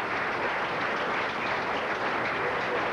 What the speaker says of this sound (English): Hall of Famers in the crowd nodding and applauding for you with a national title